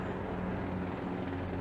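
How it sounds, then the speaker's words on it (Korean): A helicopter passes overhead outdoors near a parked 2021 Ford F-150 pickup, a steady, fairly loud rotor and engine drone that fills the whole stretch with no talking. "헬리콥터가 지나가네요."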